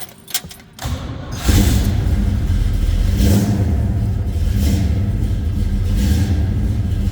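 A 1968 Pontiac GTO's big V8 engine cranks briefly, catches, and settles into a loud, loping rumble with a couple of throttle blips, close by.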